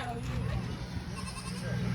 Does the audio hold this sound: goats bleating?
yes